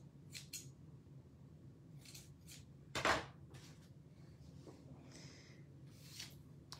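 Scissors snip through sheer ribbon at a paper-crafting table: a handful of quiet, crisp cuts spread out over several seconds, with one louder close snip in the middle and no talking.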